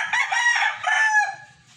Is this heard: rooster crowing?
yes